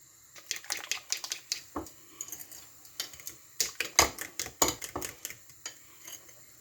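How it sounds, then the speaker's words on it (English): A whisk clinks rapidly against a glass bowl or container, beating spices into milk for an egg chickpea curry; close, crisp repeated metallic taps in uneven bursts with no talk. "So the spices go into there and we're going to give it a whisk."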